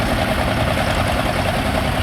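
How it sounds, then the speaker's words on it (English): A Field Marshal farm tractor engine idles at a steam rally, giving a steady, even mechanical chug that holds unchanged throughout at close range. "the Field Marshal, the green machine there with the silver wheels"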